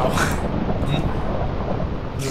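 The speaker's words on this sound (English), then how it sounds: "Wow. The thunder." Thunder rumbles through a Minecraft world, a broad, sustained low roar with faint rain-like hiss, loud and steady for a couple of seconds with no talk over it.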